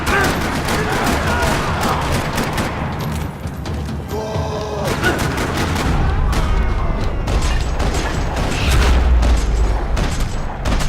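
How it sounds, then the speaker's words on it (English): Gunfire rattles through a parking lot in the Max Payne 3 video game, with dense bursts and booming shots running continuously under a busy, loud mix. "Another parking lot rattling with gunfire."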